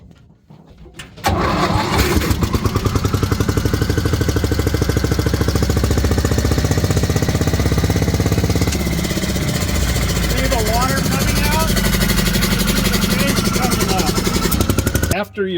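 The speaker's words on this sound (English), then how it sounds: "So we're going to prime the pump now. I'm going to start the pump from this back starting position." The pump engine on a 1980 Ford F250 4x4 wildland brush fire truck starts after a brief crank, then runs loud and close with a steady, rapid, rough drone that shifts slightly partway through.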